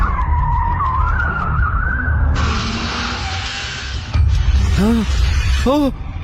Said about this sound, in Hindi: वो तो गोली की तरह भगा रहा था।